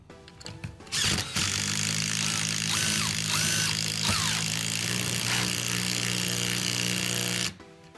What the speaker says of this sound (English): the hammer drill was able to drive this screw in faster than the impact driver